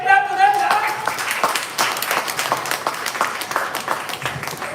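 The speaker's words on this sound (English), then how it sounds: "give a big clap to them," Audience at a live event claps in a brisk, fairly loud burst of many hands, with a tonal voice or sound at the start and the clapping continuing steadily throughout.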